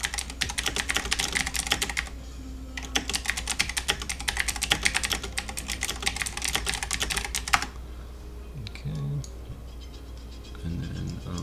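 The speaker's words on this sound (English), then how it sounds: "we just have to type some stuff in here" Computer keyboard typed on in quick bursts of clattering keystrokes, close and fairly loud, with a short pause partway through and then quiet after the typing stops.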